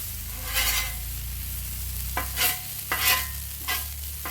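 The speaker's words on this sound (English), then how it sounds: "I don't want them too greasy, but I do want them frying up." Potatoes sizzle and fry in bacon grease on a Blackstone griddle with a steady crackle, while a utensil scrapes and stirs in several short, close strokes.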